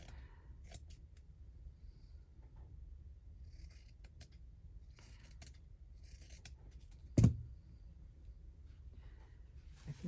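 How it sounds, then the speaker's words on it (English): Scissors cutting a bunny motif out of fabric for spring bunting, a series of quiet close snips and rustles, with one sharper louder snip standing out. "Let's just cut it out like this first"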